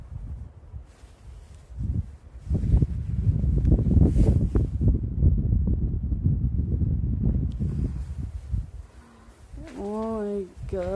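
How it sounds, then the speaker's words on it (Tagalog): Strong wind gusts roar across the microphone outdoors during a light snowfall in a city, a loud low rumble lasting several seconds before easing, with a person speaking briefly at the end. "Grabe ang hangin."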